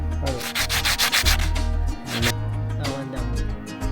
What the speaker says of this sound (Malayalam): ഡാർട്ട് നമ്മൾ നല്ലപോലെ മിനുസപ്പെടുത്തി വയ്ക്കുകയാണ്